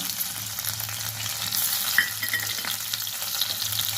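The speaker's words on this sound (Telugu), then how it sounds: "ఇప్పుడు చిన్నగా తరిగి పెట్టుకున్న వెల్లుల్లి వేస్తున్నాను" Chopped garlic and ginger sizzle in hot oil in a pan for carrot rice, a steady broadband frying hiss with light stirring scrapes, close and continuous, no voices.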